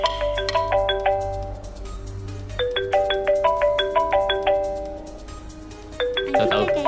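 A phone rings with a melodic electronic ringtone that repeats a bright rising pattern of chiming tones, loud and close, continuing steadily for several seconds before a brief disturbance at the end.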